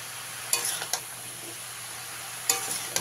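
Pumpkin greens with potatoes stirred with salt in a frying pan, a soft continuous sizzle punctuated by a few brief scraping strokes of the spoon, no talking.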